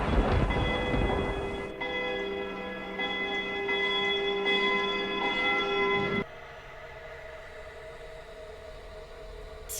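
A burst of thunder as lightning strikes opens loud and broad, then rumbles away beneath lingering, bell-like ringing tones that decay over several seconds before cutting off abruptly.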